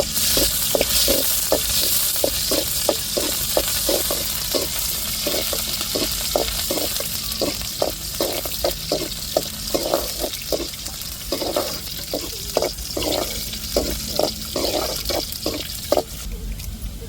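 Onions sizzle in hot oil with cinnamon in a pan, a steady close frying hiss broken by a regular series of stirring scrapes and taps throughout.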